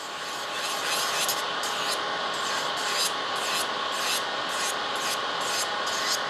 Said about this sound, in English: I'm trying to file really even, so I've got less filing with the hand file.